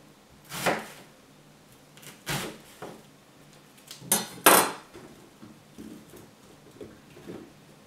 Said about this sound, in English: The onion, I'm just going to cut that into just a few chunks.